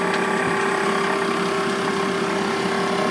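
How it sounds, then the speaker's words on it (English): Vacuum sealer motor running steadily as it pulls air from a bag of chicken wings, a continuous close mechanical whir with a fixed tone throughout. "I'll press the button that says vacuum and seal"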